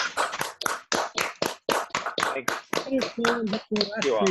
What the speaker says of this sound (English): Can we have a huge round of applause for Dr. Ashish for spending his time and.